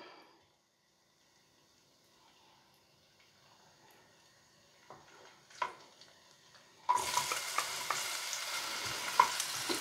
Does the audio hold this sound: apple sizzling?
yes